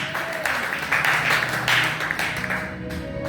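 A church congregation claps for Jesus in a sustained round of applause lasting a few seconds, dense and even with small swells, with no speech over it.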